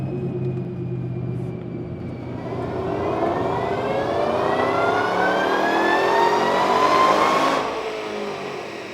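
A supercharged 2012 Shelby GT500 with a VMP Gen3 TVS blower and 2.8 inch pulley makes a full dyno pull, the engine note rising in pitch with a climbing supercharger whine, then cutting off abruptly, loud and close.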